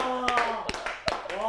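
A few sharp, close hand claps ring out at a steady pace in a classroom-style lesson, with speech and voices over them.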